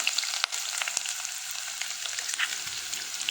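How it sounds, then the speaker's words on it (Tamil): Onion sautéing in hot oil with cardamom and cloves for beetroot pulao, a steady broadband sizzle close up with a few faint clicks of stirring, no voices. "இது பொரிஞ்சதுக்கப்புறம் வெங்காயம் சேர்த்துக்கலாம்."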